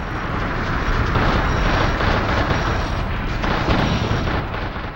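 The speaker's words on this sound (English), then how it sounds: "A couple of blasts from my cannon." Mech cannon fire in the Xbox game Steel Battalion: loud, heavy booms that blur into a continuous thundering rumble throughout, close and dominant, with no voices.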